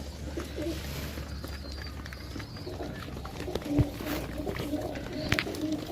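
Pigeons for sale in Sarai Alamgir, Jhelum, coo softly in low repeated rumbles near the microphone, with background bustle and light clatter throughout.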